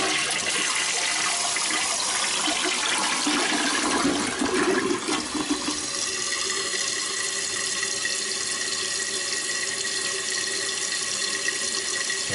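A repaired household toilet flushes with a loud rushing swirl, then settles into a steady hiss and trickle as the tank refills, continuous and close with no talking.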